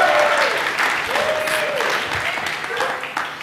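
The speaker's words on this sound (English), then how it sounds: "Give him a round of applause." Audience at a magic show card-trick performance claps steadily and loudly for a returning volunteer, dense applause throughout with a few faint voices and whoops over it.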